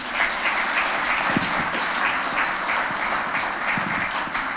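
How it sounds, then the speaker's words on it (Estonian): Sustained applause from an audience at a municipal gathering in Rae Parish, Estonia, many hands clapping together in a steady, moderately loud wash that holds without pause. "Aplaus."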